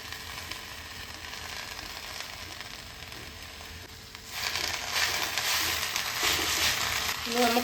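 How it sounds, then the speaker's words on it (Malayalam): Curry leaves dry-roasting in a hot pan with no oil give a crackling, rustling sizzle that starts low and then swells louder about halfway through, with scraping stirs near the end. "ഞാനിപ്പോൾ എണ്ണ ഒഴിക്കാണ്ടാണ് വറുക്കുന്നത്"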